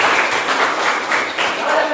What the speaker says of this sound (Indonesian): Tepuk tangan untuk Pak Natul.